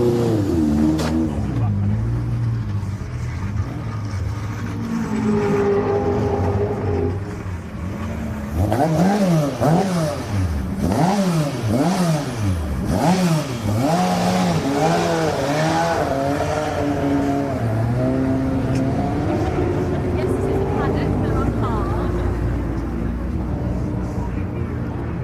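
BC V8 race cars at Mallory Park during noise testing, engines revving and sweeping past in repeated rising and falling passes, loud and continuous with a voice talking over the noise.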